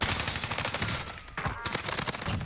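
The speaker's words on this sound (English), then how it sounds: "Under fire! Oh, I'm getting shot at." Dense gunfire aimed at the player in a first-person shooter, rapid overlapping shots crackling continuously at close range with a brief lull midway.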